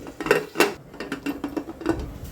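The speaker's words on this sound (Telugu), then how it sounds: "ఒక 2 నిమిషాల పాటు ఇప్పుడు మూత పెట్టుకుందాం" A metal lid set onto a cooking pot while making chole biryani, heard as several close, bright clanks and rattles in quick succession as it is shifted and settled into place.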